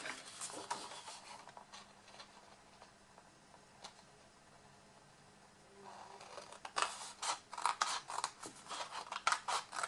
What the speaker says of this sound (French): donc on va prendre un ciseau